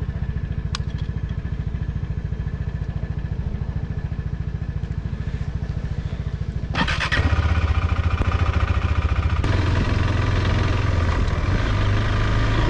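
KTM motorcycle engine running with a steady rhythmic thump, close and continuous, then revving up noticeably louder partway through and holding a higher, rougher drone to the end, with no voices.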